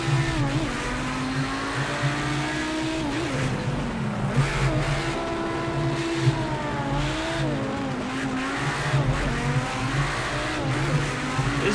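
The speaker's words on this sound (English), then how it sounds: "It is a nice sounding car." Group B rallycross race car engine in the Project CARS 2 video game, droning loud and close without a break, its pitch rising and dipping as the car accelerates and shifts, with faint tire noise underneath.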